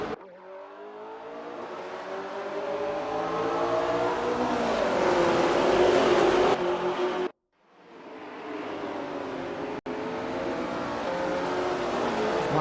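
Race cars in a racing video game roar off the line at a sprint race start, with engines rising and revving through the gears. The sound is loud and continuous, breaks off briefly, then resumes with engines still howling.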